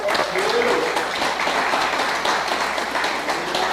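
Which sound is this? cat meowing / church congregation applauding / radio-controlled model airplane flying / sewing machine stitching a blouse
church congregation applauding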